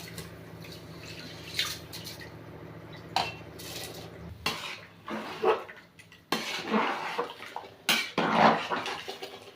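A spoon scrapes and clinks against a metal pressure cooker in irregular strokes, with wet, sloshing sounds from rice and boiling water, and no voices.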